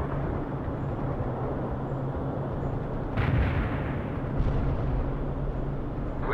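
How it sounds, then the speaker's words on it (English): An artillery strike being fired in the video game World in Conflict: a heavy, continuous low rumble with a booming blast midway and a second thump shortly after, with no talk. "Artillery strike anywhere, sir. Affirmative, sir. Firing."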